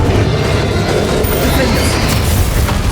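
Fire-spell blasts from Confringo in the Hogwarts Legacy video game, a dense and continuous wash of booming, crackling combat noise that stays loud for the whole stretch.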